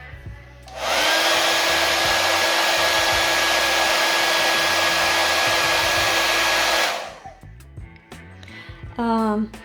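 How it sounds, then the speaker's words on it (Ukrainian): A Gemei GM-4828 electric facial cleansing brush whirs for about six seconds as it spins, a steady, loud motor hum that starts and stops abruptly, with a few faint handling sounds before and after. "Щітка обертається в обидві сторони."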